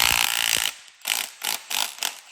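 A ratchet drives a tapered lug nut onto a Karcepts 36mm hub during an EF K-swap axle install, with a steady whirr and then several close, evenly spaced bursts of clicking.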